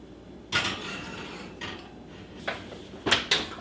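Ceramic pot pie dishes clink and clatter in a few sharp knocks as they are set into an oven, with quieter scrapes between, close and fairly soft, with no talking.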